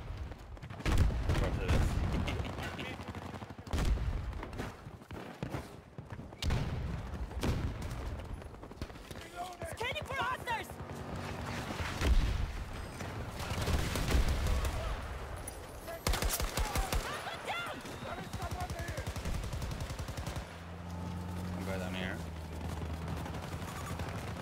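A big gun in a DM7 shooter game fires with booming blasts and rapid bursts, densely layered with loud game effects throughout, while people talk intermittently over the noise.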